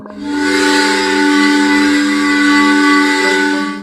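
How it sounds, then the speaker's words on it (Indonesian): A loud steam whistle at a sugar factory blows one long, steady tone with a breathy hiss, sustained for nearly four seconds without a break. "Sebelum sampai loji, peluit uap pun berbunyi."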